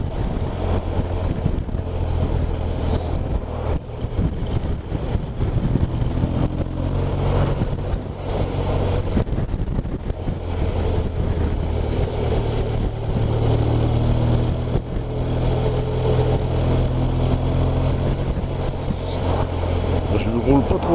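A heavy, large motorcycle rides slowly along a small country road with grooved tarmac, its engine a steady low drone mixed with wind rush throughout.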